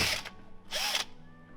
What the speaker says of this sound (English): Let's drill a hole in the floor to basically get all this water the hell out of here